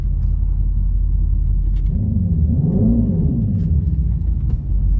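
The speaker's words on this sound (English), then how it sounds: "the fact that you can rev this thing from neutral is just crazy" A 2025 Dodge Charger Daytona Scat Pack, an electric car, revving in neutral through its synthetic exhaust sound: a steady deep rumble rises into one swelling rev in the middle and then settles back, loud and close.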